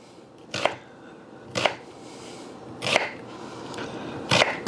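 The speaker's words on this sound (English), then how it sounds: "cut down once like this, hold it together, and just nice small dices this way." Knife dicing an onion on a cutting board for pork belly tacos: four distinct sharp chops spaced about a second apart, close and fairly loud over a quiet room, with no talking.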